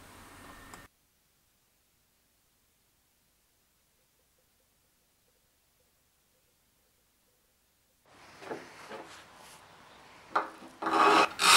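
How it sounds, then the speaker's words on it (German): Brass wire brush scrubbing along both sides of a bandsaw blade clamped for sharpening, heard as a few rough, raspy rubbing strokes growing louder near the end after a long near-silent gap. "Mit der Messingdrahtbürste reinige ich das Sägeband von beiden Seiten."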